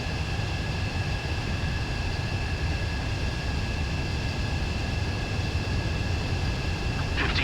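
A fighter jet on landing approach in Ace Combat 7 makes a continuous, loud roaring engine drone with a high whine, holding steady throughout with no voices.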